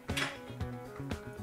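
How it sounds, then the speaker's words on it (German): A spoon stirring pangasius in coconut sauce in a pot, giving three distinct metallic knocks against the pot roughly half a second apart, each with a short ringing tail at low volume. "Mal kurz umrühren"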